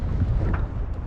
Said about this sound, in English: it's just gusting so hard that it's picking up the water